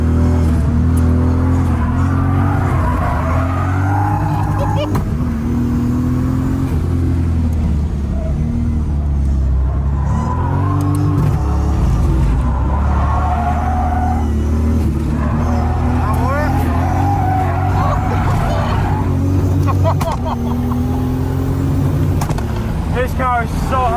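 A 1000-horsepower Toyota Supra race car drives hard around a racetrack, its engine droning loud and close, rising and falling through the gears for the whole stretch while people talk over it.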